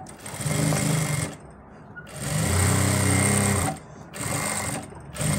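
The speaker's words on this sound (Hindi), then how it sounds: "अब हम यहाँ पे एक सिलाई लगाएंगे इसको रोकने के लिए जेब को।" A sewing machine stitches a pocket in place on ladies' pants, running in three loud, close bursts of rapid whirring with brief pauses between them.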